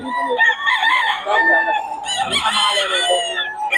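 A pure Kelso gamefowl rooster among chickens in Bocaue crows loudly and close by, a long strained call that rises and breaks, with someone talking over it.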